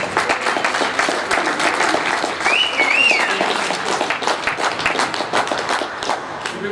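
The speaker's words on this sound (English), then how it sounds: "Please, a round of applause" A crowd gives a loud round of applause for a boxer's introduction at a fight event, dense rapid clapping throughout with a few whoops and cheers rising partway through.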